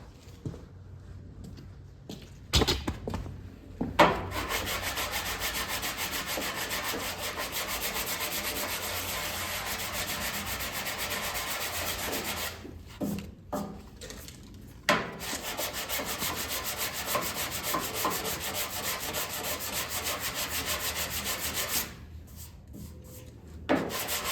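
A sanding block rubs back and forth over body filler on a car panel, steady rasping strokes in long runs broken by short pauses, close and fairly loud with no talking.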